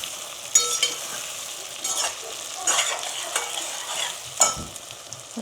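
Potatoes fry in a pan for poha khichdi, sizzling softly while a utensil stirs and scrapes them in a few sharp, separate bursts.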